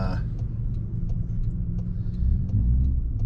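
Toyota Tacoma pickup truck driving in sport mode, a steady low engine and road rumble from inside the cab, growing slightly louder toward the end.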